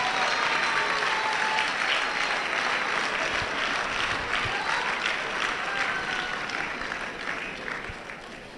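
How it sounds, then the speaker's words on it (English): An audience at a graduation ceremony and education summit applauds steadily. The clapping is dense and sustained and fades slightly toward the end. "So join me for the second position to clap for Adama Philemon."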